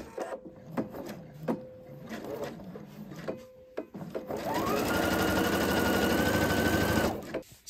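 A sewing machine stitches down the middle of the dividing seams of a quilted, padded Christmas calendar with pockets, starting after about four seconds of scattered handling noises and running as a steady, close mechanical whir until near the end.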